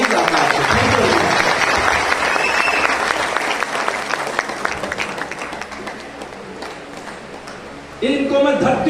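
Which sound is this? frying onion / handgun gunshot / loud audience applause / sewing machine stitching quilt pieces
loud audience applause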